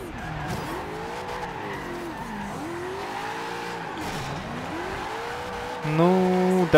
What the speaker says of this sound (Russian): Только с ручником она в занос заходит.